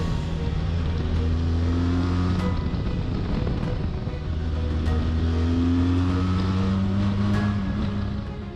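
A 2021 Benelli TRK 502 BS6 motorcycle cruises along a road in Himachal Pradesh, its engine drone steady and close, the pitch easing down and rising again as it changes speed, with wind rush over it.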